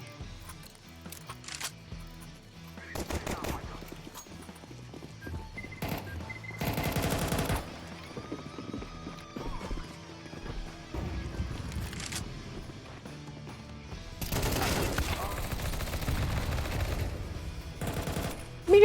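Submachine gun fire in a video game comes in several separate bursts of rapid shots, with quieter gaps of game ambience and clicks between them, heard at moderate loudness with no talk.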